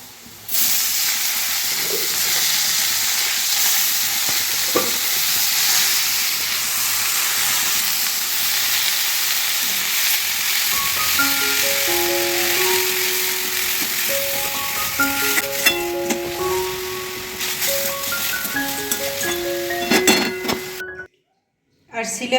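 Greens go into a pan of frying potatoes and set off a loud, hissing, steamy sizzle that carries on throughout. Someone talks over it, and the sound cuts out briefly near the end.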